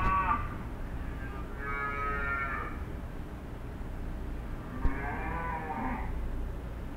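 A cow moos twice, long drawn-out calls separated by a pause, heard clearly against a quiet outdoor background.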